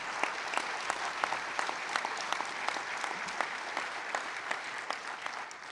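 A crowd at a labor keynote breaks into sustained applause, dense and even throughout, with scattered sharper claps standing out from the wash of many hands at a moderate distance.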